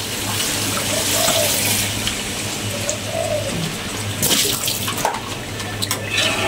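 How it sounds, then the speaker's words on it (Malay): Water pours steadily into a cooking pot while asam pedas with siakap fish is prepared, a continuous splashing wash heard close up, with a few clinks near the end. "Kita masukkan air."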